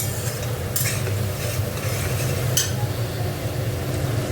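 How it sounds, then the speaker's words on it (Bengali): Artangra fish being sautéed in a pan, a steady loud sizzle with a spatula stirring and scraping against the metal, a couple of brighter clinks near the start and middle, and no voices. "এটা ভালো করে একটু কষবো।"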